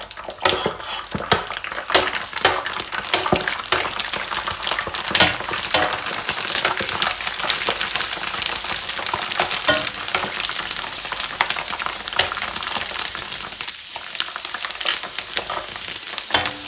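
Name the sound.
pork chicharon frying in hot oil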